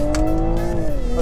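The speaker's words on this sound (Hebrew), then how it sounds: "ואם יש פה מנוע של BMW וזה מנוע מוכח שנמצא בהמון מכוניות ספורטיביות והוא נשמע" A 2019 Toyota Supra with a BMW engine revving loudly and close, its sustained, rising engine tone holding steady before easing slightly toward the end, with no talking over it.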